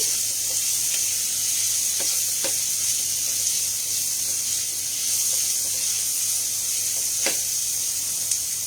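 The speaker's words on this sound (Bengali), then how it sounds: "একটু ভাজা ভাজা করে নিচ্ছি।" Onion, garlic and ginger fry in a pan for paneer soup, a soft steady sizzle with a few faint clicks of stirring.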